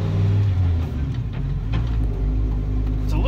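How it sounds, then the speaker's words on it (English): A V10 woodgas-fuelled truck engine pulls hard from inside the cab, a loud steady rumbling drone that dips briefly as it shifts gears and then climbs again. "It's a little bit rough from the first to second gear shift."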